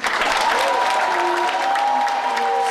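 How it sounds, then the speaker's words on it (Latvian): Steady, loud audience applause at the Mis un Misters Balvi 2004 pageant, greeting the runners-up, with a sustained dense clatter of clapping hands filling the hall and a voice speaking over it. "Sanda un Zigmunds, aplausu viņiem"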